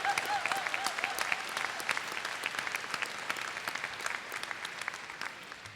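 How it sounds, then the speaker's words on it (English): Applause from members in a parliamentary Commons chamber, a steady, dense patter of many hands clapping at moderate level for several seconds with no talk over it. "one more round of applause for the work of these people"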